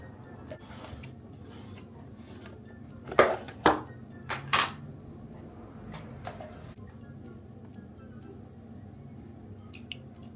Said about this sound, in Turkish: Ben hemen iki tane daha sarımsak doğradım.